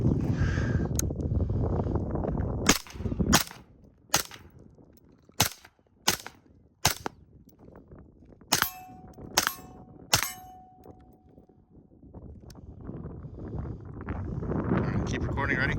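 Rifle shots fired on an outdoor shooting range, from a flat-shooting AR-15 to a precision long-range rifle, ring out as eight sharp, loud reports spaced about a second apart, with wind noise and a faint background voice between them.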